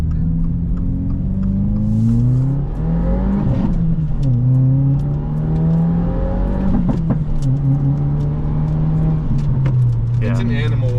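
A 2023 Subaru WRX with a 2.4-liter turbocharged boxer engine accelerates hard, its engine note climbing loudly through the revs, dipping at gear changes, then rising again, heard from inside the car.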